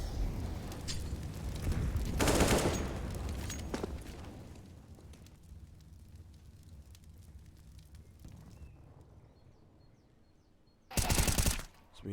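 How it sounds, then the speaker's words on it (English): Gunfire from a competitive shooter game match, a loud burst of rapid shots early on, then quieter scattered pops and rumble, ending with another sharp close burst. "So we are going to see Douglas able to find himself a headshot onto STR."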